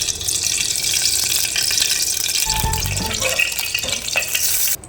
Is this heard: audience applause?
no